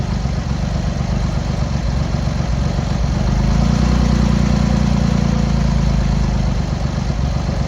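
A Triumph Hurricane (TRIX75) motorcycle engine runs steadily with a little throttle held just off the stop, giving a loud, close, continuous drone that swells slightly midway, with no talking.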